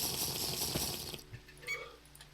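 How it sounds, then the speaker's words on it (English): Water splashing and trickling in a survival video game as dirty water is drunk, a short burst of running water that cuts off abruptly, leaving faint drips and quiet background. "Alright, let's drink. Dirty water."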